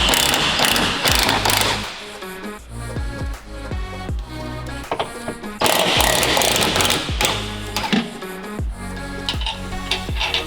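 A ratchet eases the bolts on the engine cradle of an 1100 HP Hellcat Redeye build, giving loud, close clicking bursts with a rapid pawl rhythm, broken by brief pauses between runs.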